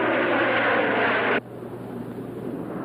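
Airplanes roar overhead in a loud, dense engine drone that cuts off abruptly partway through, leaving a quieter, steady hum behind it.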